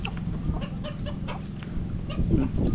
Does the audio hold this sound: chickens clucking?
yes